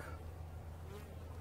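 Honeybees buzz steadily around a hive in spring, a dense, continuous hum close by with a faint voice briefly underneath.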